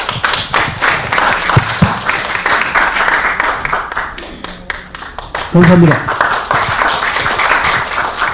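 Audience at the opening ceremony of an academic society's summer conference claps for a congratulatory speaker; a burst of applause rises under the host's voice, with microphone thumps and brief talk.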